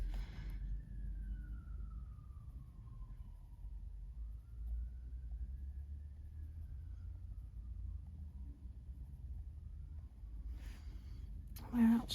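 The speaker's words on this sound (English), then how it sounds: "They normally have a different siren to that, the fire engines." A fire engine siren wails faintly in the distance, its pitch slowly rising and falling over a low rumbling background, with brief voices near the end.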